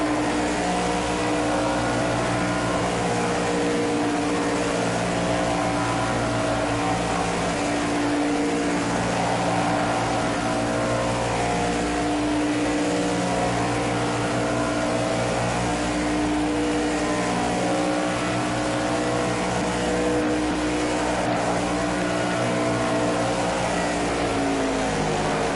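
Stock cars racing on an oval track in the Project Cars 2 video game, a steady loud roar of engines with layered drone and hum sustained throughout, no speech.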